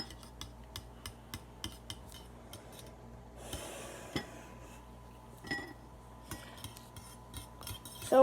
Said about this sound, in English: Now start stirring.